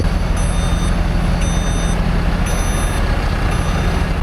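A forklift sounds its reversing alarm during the recovery of a 120,000-gallon fire suppression tank in Phoenix, Arizona: evenly spaced, high electronic beeps about once a second over a constant low engine rumble.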